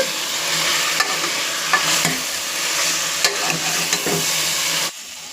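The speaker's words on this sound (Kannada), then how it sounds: "ಇದಕ್ಕೆ ಆಲೂಗೆಡ್ಡೆ ಬದನೆಕಾಯನ್ನ ಹಾಕೊಳ್ಳೋಣ ಇದನ್ನು ಒಂದೆರಡು ನಿಮಿಷ ಹುರ್ಕೊಳ್ಳೋಣ" Cowpeas stir-fry with potato and brinjal in a pan, a loud steady sizzle broken by several scraping stirs and clinks of a utensil, ending with a sudden drop in volume.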